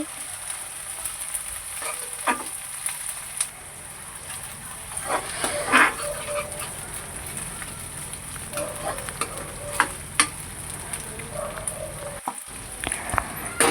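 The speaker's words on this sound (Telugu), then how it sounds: "హాఫ్ టీ స్పూన్ అల్లం వెల్లుల్లిపాయ పేస్ట్ వేసుకొని పచ్చివాసన పోయేంత వరకు వేయించుకోవాలి" Onions with half a teaspoon of ginger-garlic paste frying in a pan, a soft steady sizzle scattered with faint crackles and light stirring, close by and with no talking.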